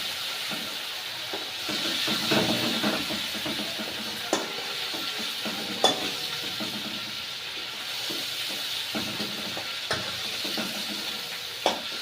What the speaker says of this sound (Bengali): তো আমার মাছ ভাজা প্রায় হয়ে এসেছে।